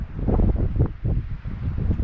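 Wind gusting past a wooden hut on a mountainside facing an erupting volcano, a close, steady buffeting roar with rustling swells and no voices.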